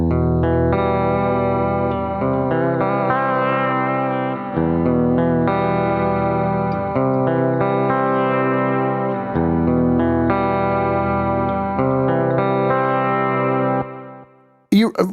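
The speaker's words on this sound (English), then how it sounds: "We'll start with the vibrato." A guitar played through the vibrato effect of a Nembrini Jazz Chorus amp app rings out in sustained, wavering chords with a pulsing pitch wobble, loud and alone, ending abruptly.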